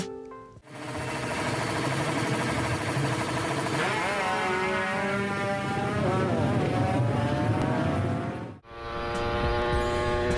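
A two-stroke motorcycle engine runs continuously and loudly, with a buzzy revving tone that rises and wavers before cutting briefly, then resuming.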